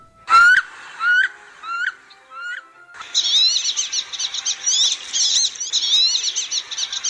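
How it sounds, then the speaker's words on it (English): A few loud, separate rising squeals, then a run of thin, rapid whistling calls that wavers up and down, clear and close. "The female's call is much louder than that of the male's, which is a rising and falling thin whistle."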